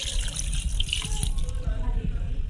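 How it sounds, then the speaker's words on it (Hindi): Half a litre of water is poured into a pot of beef kadahi, giving a steady splashing, gushing pour close by that fades out toward the end. "ये अब हमने इसमें शामिल कर दिया आधा लीटर पानी का"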